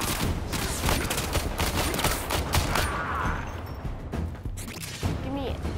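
Weapon fire in Warframe, repeated shots and bursts mixed with game effects and a busy action backdrop, fairly loud throughout with a voice talking over parts of it.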